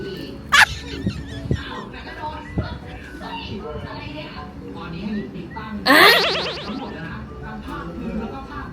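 A chicken clucks and squawks around a family home in Thailand, with a sharp squawk early and a louder drawn-out call later, heard over people talking and a busy household background.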